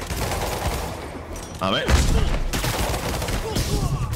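Rapid bursts of gunfire in Marvel's Spider-Man Remastered on PC crackle through a busy, noisy mix, with a voice speaking briefly over the shooting.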